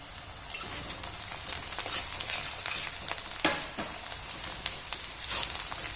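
Chopped onion with curry leaves fries in a pan, a soft, low-level crackle and sizzle with scattered sharper pops and the odd stirring scrape.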